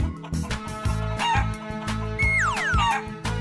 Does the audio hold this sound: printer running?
no